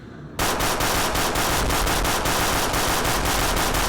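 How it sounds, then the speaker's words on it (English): Sustained automatic gunfire from weapons in the video game Fallout 4, a loud, dense stream of rapid shots that starts abruptly after a brief quiet moment and continues without pause. "But I kept laying down suppressive fire on it."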